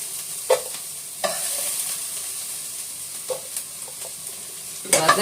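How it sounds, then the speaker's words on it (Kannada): Chopped onions fry in hot oil in a pan for a sambar tempering, giving a steady close sizzle broken by a few sharp clinks and scrapes from stirring. "ಇವಾಗ ಇದು ಈರುಳ್ಳಿ ಫ್ರೈ ಮಾಡಿದ್ದೀನಿ ಈರುಳ್ಳಿನ ಸ್ವಲ್ಪ ಸಾಂಬಾರ್ಗೆ ಒಗ್ಗರಣೆಗೆ ತೆಗಿತಾ ಇದ್ದೀನಿ"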